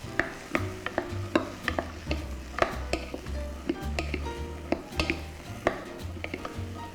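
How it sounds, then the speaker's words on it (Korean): Vegetables stir-frying in sesame oil in a pan, with a spatula scraping and tapping in an irregular rhythm over a soft, steady sizzle. "참기름이나 들기름에 이렇게 볶아서 이제 소리 나죠?"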